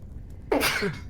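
A single short, sharp sneeze bursts out close by after a moment of quiet.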